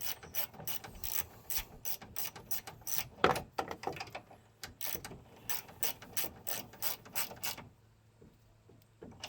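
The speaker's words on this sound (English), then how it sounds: "Need to tighten that nut down for the transmission cooler line." Rapid ratchet clicks in repeated bursts as a wrench tightens the transmission cooler line nut on a 2009 Dodge Journey during radiator replacement, close and distinct, tapering off near the end.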